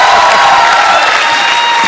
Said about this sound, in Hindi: एक बार तालियां बनती हैं दोबारा